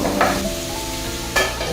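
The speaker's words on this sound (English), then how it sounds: "I'm now frying. I'll let the beef to cook with the onions" Steady sizzling of beef frying with onions in a pan, with a couple of brief louder bursts of stirring, no voices.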